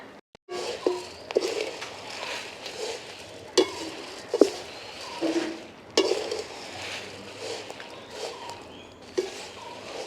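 Whole dried chillies being dry-roasted in a small pan for Jaffna curry powder, with scraping stirs and light clinks of a utensil against the pan recurring every second or so over a soft crackle.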